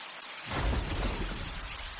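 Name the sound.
rain and thunder sound effect in animated story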